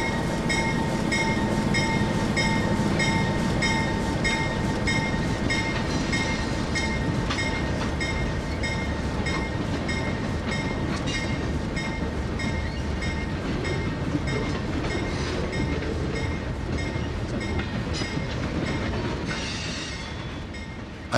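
An RS-27 diesel locomotive rolls along the rails in a railroad sim, a steady loud rumble with clicking wheels and a faint squeal, fading slightly at the end.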